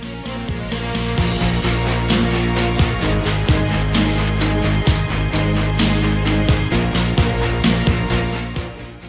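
A steady, full-bodied instrumental piece from a video game soundtrack, with sustained low tones and regular percussive hits, playing continuously at an even loudness with no voices.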